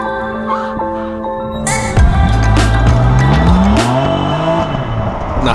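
A BMW M4 brakes hard into a downhill curve on the Bilster Berg track, its engine note dropping through loud downshifts with a sweeping rise and fall in pitch and a rough squeal from the tires, close and intense.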